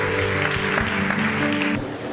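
Congregation in a church applauding loudly and steadily throughout, dense continuous clapping with music or sustained tones underneath.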